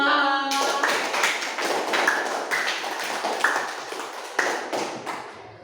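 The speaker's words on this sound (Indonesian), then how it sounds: "Kasih tepuk tangan buat anak kelas 5." A fifth-grade class claps in a quick, rhythmic pattern of sharp hand taps in a classroom, steady and fairly close for several seconds after a brief tone at the start.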